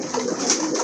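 Pigeons in a breeder's collection coo in a brief, steady murmur nearby, with no voices present.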